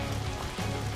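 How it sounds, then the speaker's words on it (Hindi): Steady rain falls in a dense, even hiss that lasts the whole brief moment, close and moderately loud with no voices. "कितनी बारिश हो रही है"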